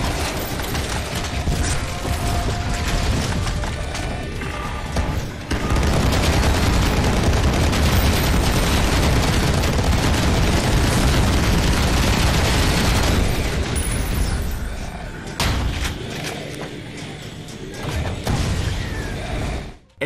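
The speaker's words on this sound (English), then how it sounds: "The chain gun is a heavy tank weapon that you grab off one of the game's bosses" Heavy chain gun from the boss-dropped tank weapon in the Build Engine shooter Ion Fury, firing in a dense, loud, continuous mechanical rattle that runs nearly twenty seconds with a brief dip partway and a softer, sputtering tail.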